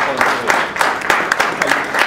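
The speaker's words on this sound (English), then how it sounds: "Give uh, give a big round of applause." Conference audience in Toronto applauding a panel, a dense burst of clapping heard close and loud with a few voices mixed in.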